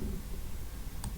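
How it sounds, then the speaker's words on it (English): Two quick, crisp clicks of a computer mouse come close together near the end, over a low background hum. "with just a click"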